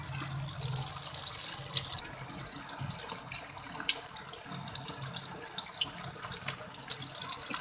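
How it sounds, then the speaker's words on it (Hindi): Cold tap water runs steadily over boiled macaroni in a strainer, a continuous close splashing rush that holds at an even level throughout with no talk. "इसके ऊपर ठंडा पानी डालना है ताकि ये देख लें इसकी भाप वगैरह ये अच्छी तरह से निकल जाए।"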